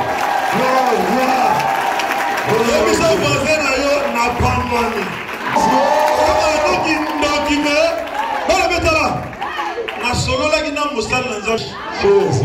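An audience at a church Bible seminar cheers and applauds loudly, a sustained roar of clapping and shouts mixed with crowd voices, while a speaker talks over the din.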